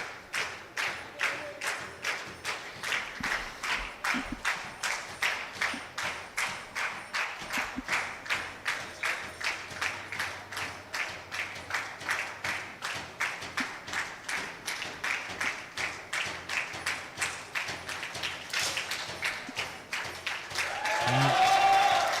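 A crowd applauds at a women's 10m air rifle gold medal final, with long runs of rhythmic, evenly spaced clapping that build into a louder swell at the end.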